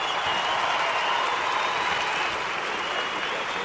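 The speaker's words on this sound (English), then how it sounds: "Let's give it one more round of applause for the" Audience applause for three speakers at a charity event, a dense continuous wash of clapping from a crowd, even and sustained for the whole few seconds.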